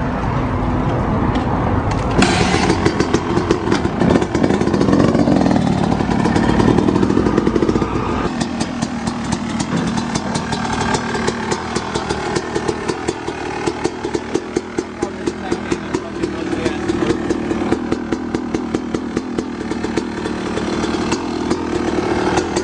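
A brand-new 2018 Yamaha YZ250 two-stroke dirt bike engine revs loudly and close up, with sharp, buzzing bursts of throttle that rise and fall in rapid succession, then settle into a choppy, rhythmic revving for the rest of the clip.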